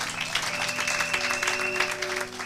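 A church congregation at a Sunday worship service applauds steadily and continuously, a dense sustained clapping with a sustained organ or keyboard tone underneath.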